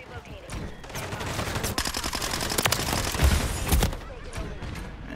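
Gunfire in Modern Warfare 3 Demolition mode, a dense fusillade of rapid automatic shots and bursts running continuously and loud, with a player talking over it.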